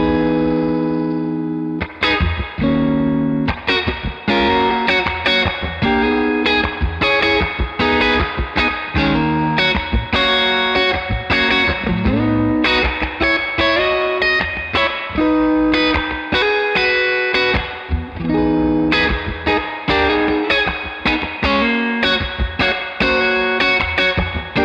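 An electric guitar played through a Victory Duchess MKII valve amplifier with its reverb and dwell turned right up, loud distorted chords and riffs ringing out with a wash of reverb over about twenty-five seconds.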